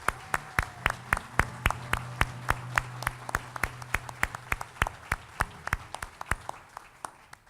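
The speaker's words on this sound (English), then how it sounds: "please stand, and we want to give you a round of applause." Applause at a college convocation ceremony comes as crisp, evenly spaced claps in a steady rhythm, fairly close and clear, lasting the whole stretch.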